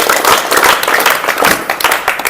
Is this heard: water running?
no